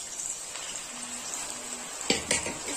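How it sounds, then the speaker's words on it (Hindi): Okra frying in hot oil for crispy kurkuri bhindi: a quiet, even hiss of oil, then a couple of sharp stirring clicks near the end, with no speech. "तो चलिए तेल गरम है तो हम फ्राई करेंगे"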